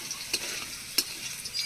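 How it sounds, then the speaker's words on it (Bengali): Jute leaves poured into a hot pan of frying garlic, a steady close sizzle with a couple of sharp stirring clatters, no talk. "এর মধ্যে আমি পাট শাক ঢেলে দেবো।"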